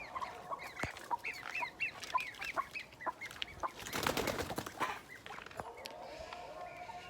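Many chickens cluck and squawk together in a busy, close flock, with a brief burst of flapping or rustling partway through.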